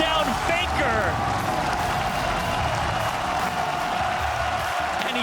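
A big crowd at a League of Legends All-Star 1v1 tournament cheers and applauds in a dense, continuous roar, with excited commentators talking over it.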